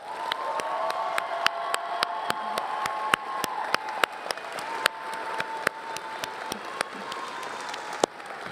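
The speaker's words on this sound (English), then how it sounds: "can we have one more huge round of applause?" Audience applause at a university honors society induction ceremony, a steady wash of many hands clapping with scattered sharp claps, occasional cheers and whoops, and a faint sustained tone running beneath through most of the stretch.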